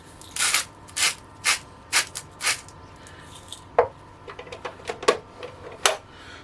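Cake batter of sugar, two vanilla pods and a pinch of salt being beaten with an electric mixer, heard as a series of sharp clattering knocks and taps against the bowl, irregular and fairly close, with no talking.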